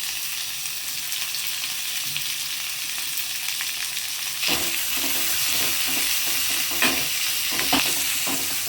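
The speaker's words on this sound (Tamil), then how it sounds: "முதல்ல எண்ணெயிலே நீங்கள் காஞ்ச மிளகா போட்டிங்கன்னா இதெல்லாம் ஒன்றா சேர்த்து மிக்ஸ் பண்ணிக்கிறேன் கூட கருவேப்பிலை சேர்த்துக்கோங்க" Dried red chillies and curry leaves fry in hot oil, a steady close sizzle with stirring clatter and scrapes that grow busier midway through, with no talking.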